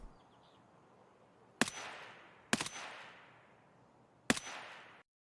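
Three sharp rifle shots firing M855A1 rounds in a video game crack out at irregular intervals, each with a fading echoing tail over quiet background, no talk.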